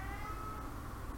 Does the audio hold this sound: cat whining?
yes